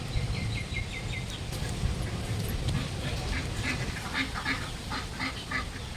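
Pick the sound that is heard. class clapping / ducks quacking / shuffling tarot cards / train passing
ducks quacking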